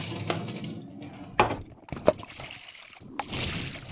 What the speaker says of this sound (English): Let's strain the water.